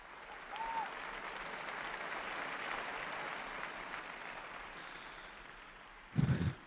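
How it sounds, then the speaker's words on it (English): A large crowd applauds grandparents at the Sunday Angelus gathering, a steady sustained wash of clapping heard from a distance, ending with a brief louder burst of nearby noise. "he's asking everyone to applaud grandparents."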